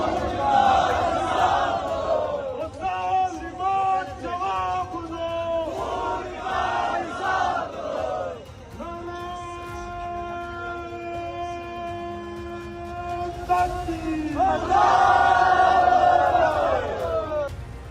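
A huge protest crowd in Rawalakot, Pakistan-occupied Kashmir, shouts rhythmic slogans in loud waves, with a sustained siren-like wail in the middle and the chanting surging back at full force toward the end.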